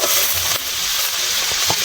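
Shrimp stir-fried in a wok-style pan (kadai), a steady loud sizzle with scraping stirring strokes throughout, close and continuous with no talk.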